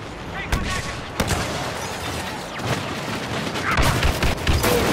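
Blaster fire crackles through a Star Wars Battlefront battle against Rebels near an uplink station, sharp bursts and a few louder cracks over a dense, continuous din of combat, with voices talking beneath.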